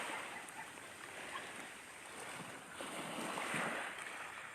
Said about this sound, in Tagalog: Nakaka-relax po talaga yung tunog ng alon ng dagat.